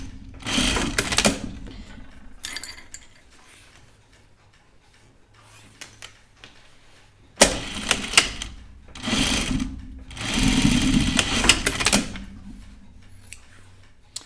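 Home sewing machine stitching a zip pouch in cream thread, running in several bursts separated by pauses, with its rapid needle ticking and motor hum close by.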